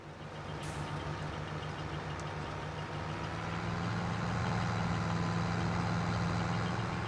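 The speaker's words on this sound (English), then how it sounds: "My tractor's struggling with this field." A medium tractor engine in a farming video game drones steadily with a low, labouring rumble and constant broadband noise, loud and unbroken, with no voices.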